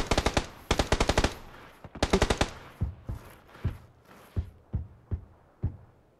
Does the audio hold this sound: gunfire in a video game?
yes